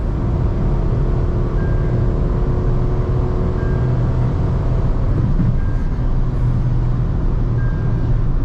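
A Tata Altroz Racer on a morning drive gives a steady, loud cabin drone of engine and road noise, unbroken and even throughout with no talking.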